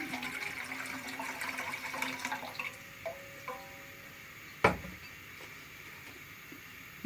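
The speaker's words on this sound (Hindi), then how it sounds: "सबसे पहले शीरे के लिए हम लेंगे 3 कप पानी।" Three cups of water poured for gulab jamun sugar syrup, a soft trickling splash that tapers off into drips, followed by a sharp clunk, quiet and with no voices.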